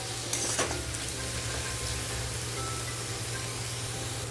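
Tomatoes sizzle steadily in oil in a pan while being stirred for paneer bhurji, a constant close frying hiss with a faint scrape near the start and no talk.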